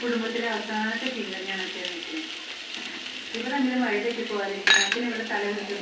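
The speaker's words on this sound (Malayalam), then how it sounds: "നന്നായിട്ട് ഇളക്കി കൊടുക്കാം കേട്ടോ" A dish with grated coconut is stirred in a pan over a low sizzle, with one sharp utensil clink near the end. A person talks throughout, over the cooking sounds.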